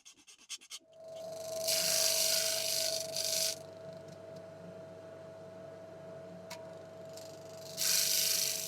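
An ebony bridge blank is sanded square, with two bursts of raspy back-and-forth sanding strokes over a faint steady hum and quiet gaps between them.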